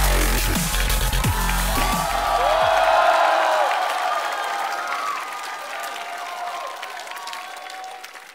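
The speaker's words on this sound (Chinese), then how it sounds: "我们掌声有请" An audience at a stand-up comedy show on a North American tour breaks into loud, sustained applause with some cheering, swelling briefly and then gradually tapering off.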